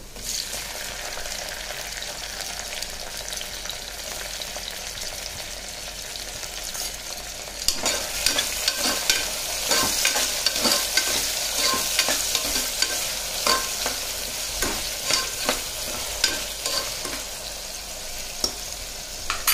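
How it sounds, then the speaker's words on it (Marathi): Chopped tomatoes sizzle as they hit browned onions in a hot pan for mod-aleli matki khichdi, a steady frying hiss that grows louder, with repeated scraping stirs of a spoon throughout the second half. "कांदा चांगला ब्राऊन झालेला आहे, तर आपण आता ह्याच्यात टमाटा टाकू"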